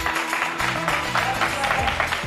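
Studio audience on a French TV game show set applauding a guest as they arrive, a steady dense wash of clapping throughout with some music and voices underneath.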